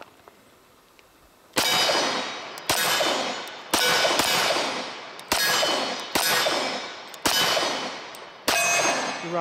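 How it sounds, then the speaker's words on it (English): Seven sharp, loud shots ring out from a Smith & Wesson 1911 pistol at a shooting range, evenly spaced about a second apart, each with a bright metallic crack and a short decaying echo. "First rounds out of this pistol for me."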